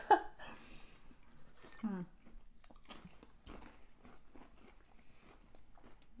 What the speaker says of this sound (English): All right, go for the cracker.